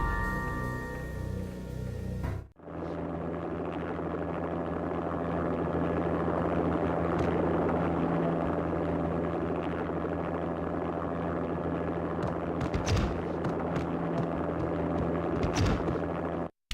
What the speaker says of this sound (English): An armed helicopter just landed on the manor grounds.